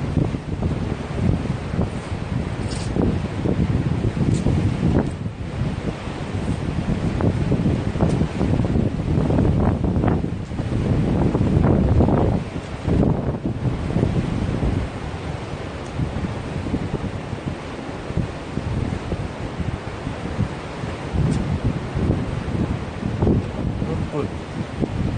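Ocean waves crash steadily on the seashore at Gyeongju under strong gusting wind, in a loud, dense roar that buffets the microphone and never lets up; voices are faintly audible beneath it.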